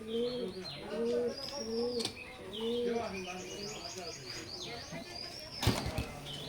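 A pair of Oman bloodline teddy pigeons coo in soft repeated rolling phrases, close and fairly quiet, with faint chirps and a brief flutter of wings near the end.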